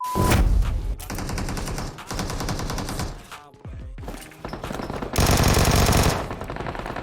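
Gunfire in PUBG Mobile, loud and close, with rapid automatic bursts in several stretches broken by brief pauses and a short lull in the middle, heavy and sustained toward the end.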